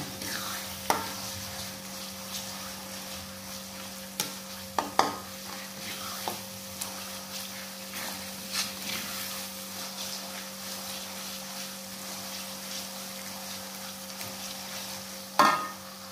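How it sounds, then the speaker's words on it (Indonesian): Potato sambal goreng with bay leaf and lemongrass being stirred in a pan: faint, continuous frying hiss under a steady hum, with scattered soft clicks and scrapes of the utensil and one louder knock near the end. "Ini kita aduk dulu ya sampai matang."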